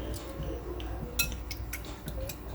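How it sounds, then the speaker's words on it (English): Quick metallic ticking of a whisk against a bowl as eggs are beaten with salt and black pepper, a steady run of light clinks close up over a low background hum. "and ready to whisk."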